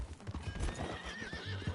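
Horse hooves clip-clop at a steady gait in Red Dead Redemption 2, joined by a clear neigh and whinny, heard close and fairly quiet with no talk over it.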